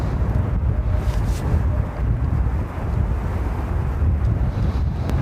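Gusty crosswind blowing at Dublin Airport, a steady loud roar of wind buffeting the microphone for several seconds, with no other clear sounds.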